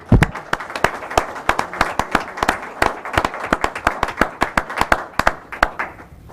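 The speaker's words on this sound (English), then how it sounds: "I'd like to introduce a big round of applause, Mr. Tom Peterson, the founder." Applause at a borough council meeting: a small crowd clapping steadily and fairly close, with distinct individual hand claps rattling throughout before tapering slightly at the end.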